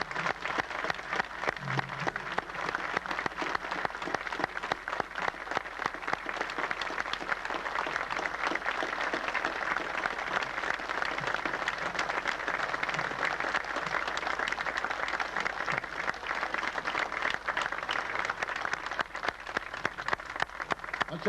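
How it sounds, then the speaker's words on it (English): A crowd at an outdoor memorial dedication for a WWII Medal of Honor recipient claps in a long, sustained ovation, even and continuous throughout with no clear breaks and no distinct voices. "Let's have another round of applause"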